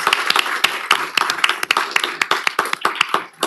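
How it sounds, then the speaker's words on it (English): A small group at a city council meeting claps together in a quick, uneven burst of applause that stays steady throughout, close by and fairly loud. "how about a round of applause for all of our new hires and promotions?"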